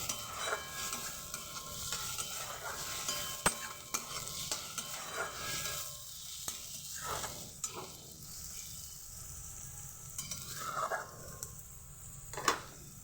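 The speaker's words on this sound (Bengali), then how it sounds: "পেঁয়াজটা সুন্দরভাবে ভাজা হয়ে গেছে" Onion fries in a pan for a prawn dish, sizzling quietly and steadily while a spatula scrapes and stirs it, with occasional soft clinks against the pan and no talking.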